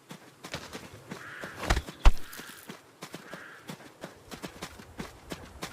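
Horse hooves clip-clop in a video game at an even walking rhythm, fairly close, with a couple of heavier thuds mixed in and no talking.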